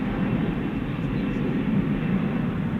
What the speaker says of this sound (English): So now we're going to see if this plane looks like it's positioned to take off from the short T here on runway 18 left.